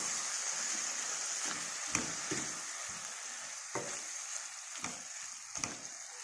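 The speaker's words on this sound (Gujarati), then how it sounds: "હવે આને આપણે મિક્સ કરી લઈશું" A pan of Indian valor bean curry with yogurt is stirred, producing soft bubbling and a steady hiss punctuated by several sharp spoon scrapes and knocks against the pan, close and moderately quiet.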